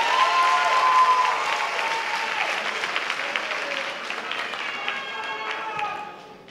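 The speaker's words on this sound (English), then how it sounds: "I think that deserves another round of applause." Loud, sustained applause from a high school graduation audience, steady clapping with cheering and whoops over it, a few voices calling out, tapering slightly toward the end.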